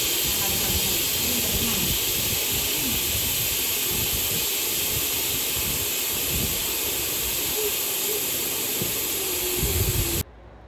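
A pressure cooker of dal and rice hisses steam in a loud, continuous, broadband rush that runs steadily for about ten seconds before cutting off abruptly.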